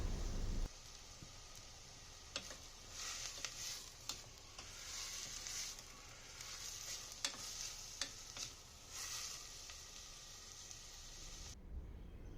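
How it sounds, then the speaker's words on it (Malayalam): Thinly sliced onions with salt sauteing in hot oil for a prawn biriyani, a steady close sizzle with scattered spatters and stirring scrapes throughout, no voices. "എന്നിട്ട് കുറച്ച് ഉപ്പും കൂടി ഇട്ടിട്ട് ഒന്ന് വഴറ്റാം."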